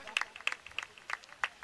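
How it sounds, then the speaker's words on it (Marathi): Scattered claps from a crowd at a local cricket tournament semi-final applauding player Rohan, a brief burst of sparse, uneven hand claps that are fairly faint and a little distant. "चला एकदा जोरदार टाळ्या वाजवा रोहन साठी एकदा."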